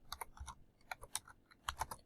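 Typing on a computer keyboard, a close series of quick, irregular key clicks in small bursts with short pauses, no voices.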